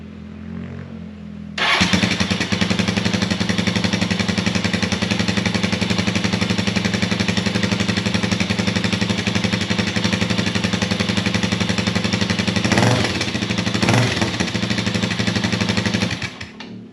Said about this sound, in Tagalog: ito yung tunog kapag nakalagay yung silencer niya. Fire it up.